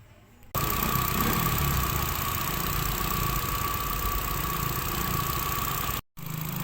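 A car engine idles steadily after its throttle body has been cleaned and the removed parts refitted. A constant mid-pitched hum starts after a brief quiet opening and drops out for a moment near the end.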